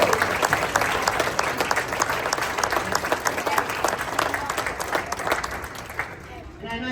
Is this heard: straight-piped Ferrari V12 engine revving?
no